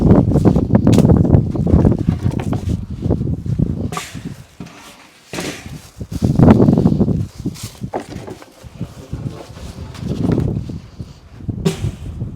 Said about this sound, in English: the wind is such a pain